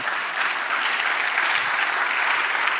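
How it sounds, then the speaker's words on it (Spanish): A church congregation applauding during a sermon, a dense, continuous wash of many hands clapping at once, loud and steady for the whole stretch with no voices breaking through. "Dale un aplauso al Señor"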